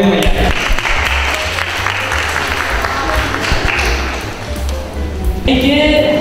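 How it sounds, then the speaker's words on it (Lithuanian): An audience applauds at a Teachers' Day school event, a dense steady wash of clapping that continues throughout the clip with voices mixed in and a brief shift in tone near the end. "tikrai plojimai."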